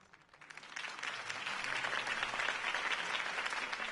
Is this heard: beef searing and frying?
no